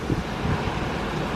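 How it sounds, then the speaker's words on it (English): Heavy rain and gusting wind outside a Walt Disney World resort on a stormy morning, a steady broadband wash with low rumbling buffets, fairly loud and continuous with no voices. "It is currently pouring down rain and windy out there."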